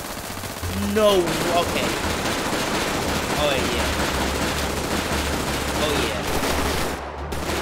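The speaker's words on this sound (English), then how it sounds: "They got people shooting outside the house." Bursts of automatic gunfire from gang members in a GTA 5 shootout outside a house, rattling steadily throughout with brief spoken remarks over the top.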